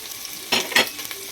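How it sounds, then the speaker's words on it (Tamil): Onion, green chilli and curry leaves hit hot oil with two sharp bursts of spluttering crackle, followed by a steady low frying hiss, heard close with no voices. "இப்போ எண்ணெய் காஞ்சிடுச்சு, வெங்காயம் போட்டுக்கலாம்."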